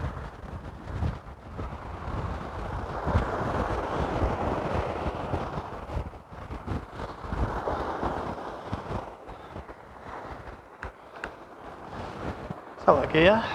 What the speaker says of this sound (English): It's a bit windy down here.